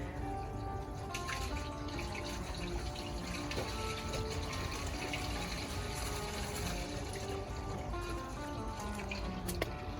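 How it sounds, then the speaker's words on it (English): Water runs steadily from a hose draining an RV black tank, a continuous faint gushing and trickling flow with no breaks. "you should be able to hear the water coming out."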